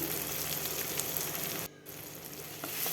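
Salt and turmeric dropped into a frying pan of cooking tomatoes for a mustard-poppy pomfret fish dish, giving a steady, close sizzle with a brief quiet gap midway before the frying resumes.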